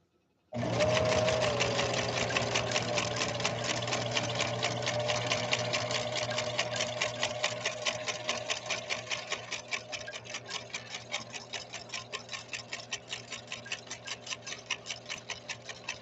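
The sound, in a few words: Husqvarna Viking sewing machine sewing a stitch pattern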